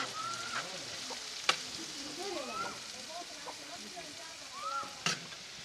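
Finely chopped chicken liver sizzles and fries on a hot tawa with onion masala while being stirred, giving a steady crackle broken by a few sharp spoon knocks against the pan.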